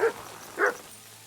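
A dog in the video game Kingdom Come Deliverance 2 gives two short, close barks about half a second apart, then falls quiet.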